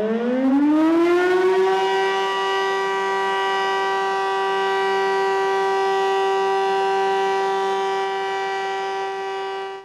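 A civil defense siren, sounded in thanks to health workers during a curfew, winds up from a low pitch into a loud, sustained wail that holds steady for about ten seconds before fading slightly.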